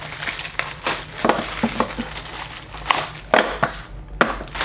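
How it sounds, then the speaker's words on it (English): Crinkly plastic and cardboard packaging being pulled open to free a tempered glass lens screen protector for a GoPro Hero 8, with a string of close, sharp rustles and snaps throughout. "Get this out of the package here."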